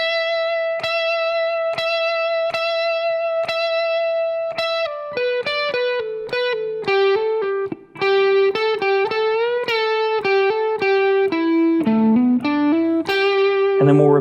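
Electric guitar plays the second half of a song's solo through effects and distortion. It opens with repeated single notes, then moves into a fast, sustained melodic run with bends, loud and alone.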